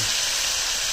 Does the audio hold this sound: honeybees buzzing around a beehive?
no